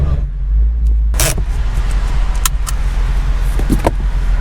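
Interior of a Ford Mustang convertible while parking: low engine rumble and road noise throughout, with a few brief clicks and rattles, close-miked and steady.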